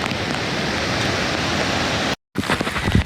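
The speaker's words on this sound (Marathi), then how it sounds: "पाऊस पण भरपूर आहे" Heavy rain falling near a waterfall in lush green countryside, a loud, even hiss of water that cuts out abruptly for a moment and then resumes with coarser splashing and patter.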